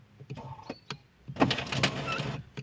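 A Skoda Fabia power window motor raising the glass whirs in short bursts, then runs longer with a strained, grinding buzz from a faulty regulator, close up and without speech.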